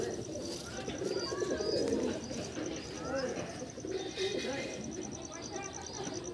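Delhi pigeons cooing in a loft, soft repeated coos and chirps mixed with other bird calls, with someone talking over them throughout.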